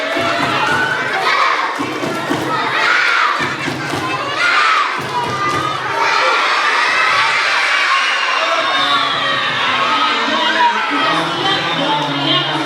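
Elementary school children at a school orientation event perform a rhythmic group clapping cheer, with bursts of claps and loud shouted chanting in a lively crowd, followed by a sustained cheer.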